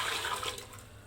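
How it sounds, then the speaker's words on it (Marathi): Water gushes from a vessel into a pressure cooker in a short, steady splashing pour, close and fairly quiet, with no voices. "कुकर ठेवलेला आहे आणि 1 तांब्या पाणी घालते मी."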